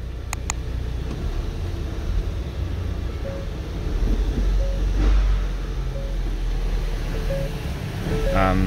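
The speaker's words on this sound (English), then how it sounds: "So I'll start her up, put her into gear." A Ford Transit van on a ramp starts and runs in gear, a low steady engine rumble close by with a slight rise midway and a few brief clicks near the start, no talking.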